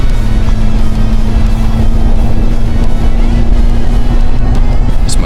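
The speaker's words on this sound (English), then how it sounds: "The HKS exhaust note really fires me up." A Mazda MX-5 Roadster with an HKS aftermarket exhaust cruises open-top on a highway, its loud, steady exhaust drone filling the space with wind rush and no talking.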